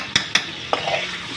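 Mutton stir-fried in a pot for yakhni pulao, three quick close utensil clacks against the metal over a soft sizzle.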